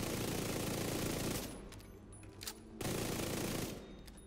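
Vector SMG fired in The Division 2, loud rapid automatic bursts with a crackling rattle, one long burst, a pause, then a second sustained burst.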